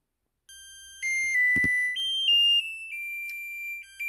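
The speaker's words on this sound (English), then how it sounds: "Timer off." Electronic kitchen timer alarm sounding after baking a banana cake at 350 degrees, shifting tonal beeps lasting several seconds with a brief knock partway through.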